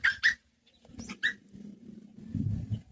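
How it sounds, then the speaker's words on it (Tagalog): A few short, sharp dog barks or yips up front, then a pause and one more, followed by rustling outdoor noise. "Ito yung aso yan."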